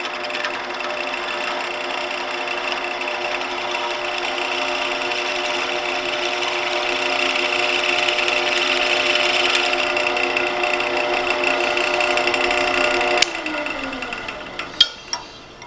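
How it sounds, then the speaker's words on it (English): Wood lathe spinning at low RPM while a tailstock drill chuck bores into a turned table lamp base, a steady mechanical whir with faint rattling that winds down near the end with a few sharp knocks. "Turn the lathe on and turn the RPMs down."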